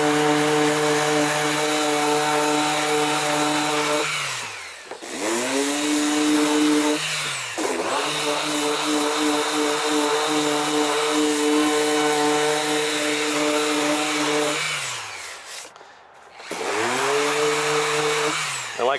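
A dual action sander works over the front splitter of a Shelby GT350, a loud steady whine running nearly continuously with a few brief dips where the tool is lifted or slowed.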